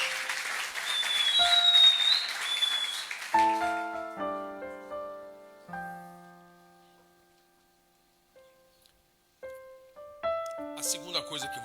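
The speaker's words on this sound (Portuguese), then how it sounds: "As palmas louvam o Senhor Jesus pela vida do pastor." Church congregation applauding during a service, a burst of clapping for about three seconds that gives way to ringing keyboard or piano notes.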